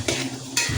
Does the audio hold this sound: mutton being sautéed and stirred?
yes